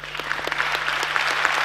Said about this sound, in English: A mighty, mighty, mighty round of applause for Finance Minister, the Honorable Ken Ofori-Atta.